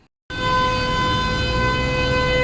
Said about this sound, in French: quand je vous disais que c'est un sport national, le klaxon ici